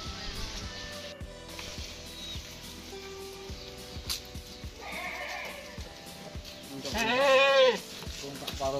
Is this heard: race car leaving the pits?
no